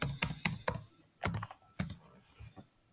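Keystrokes on a computer keyboard as a Linux command is typed, a few quick clicks, a pause, then scattered presses ending in a sharp enter key, close and clear with no talk.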